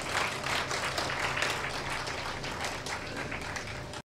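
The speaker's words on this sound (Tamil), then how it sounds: "இந்த கைத்தட்டு பத்தாது அப்பாக்கு" At a Tamil comedy speech event, a large audience applauds for fathers, giving a thick, sustained roar of clapping that stays loud and even before cutting off abruptly at the end.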